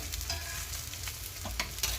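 Soft, steady sizzling of paneer shallow frying in butter on a hot griddle, with faint crackles and a low background hum, no talking.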